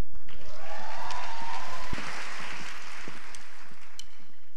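Audience applause at a Korean cultural center contest in Mexico welcoming a performing group onto the stage, a broad wash of clapping over a sustained musical tone, loud and continuous.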